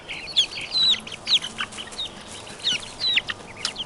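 Five-week-old chicks, including a young rooster, peep and cluck in quick, high chirps close by, with a steady barnyard hum beneath.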